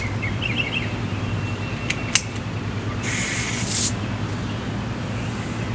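A brief hiss of spray onto the outside of a folded mask, lasting under a second amid steady outdoor background noise, with a couple of faint chirps and clicks nearby.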